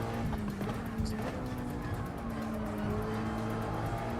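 Race car in Gran Turismo 7 driving hard with a steady engine drone, tire scrub and passing cars, a continuous, fairly loud in-race sound.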